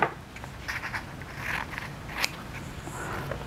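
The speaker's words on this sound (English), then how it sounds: "now I'm going to cut my corners." Scissors make quiet, short snipping and scraping cuts through the corners of a bookbinding cover at close range. Several brief cuts fall in an uneven rhythm, with no talk.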